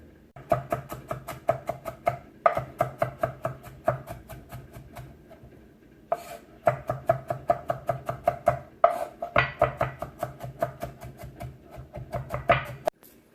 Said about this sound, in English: we're going to go ahead and chop them up on the ends